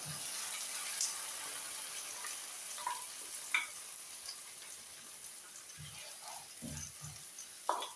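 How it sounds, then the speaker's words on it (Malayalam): Ground coconut paste goes into a hot pan for a Kerala chickpea curry, producing a soft, steady sizzle with scattered light clicks of stirring, fairly faint and without speech. "ഇനി ഇതിലേക്ക് നമ്മൾ ഈ അരച്ച് വെച്ചിരിക്കുന്ന ഈ അരപ്പങ്ങ് ചേർത്ത് കൊടുക്കുകയാണ്."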